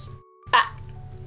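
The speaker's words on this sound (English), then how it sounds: "Sorry, I had the hiccups for a second." A single sharp hiccup bursts out close to the mic in the middle, between stretches of a low steady hum.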